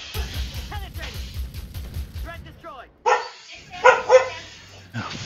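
A dog barks in quick repeated bursts within a military vehicle combat game featuring an AMX 10P on the Perseus map, loud at first, then broken by sharp yips and game effects amid radio-style chatter.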